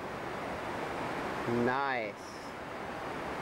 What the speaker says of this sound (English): We got the waterfalls here at Sawyer Rapids in Oregon on the Umqua River.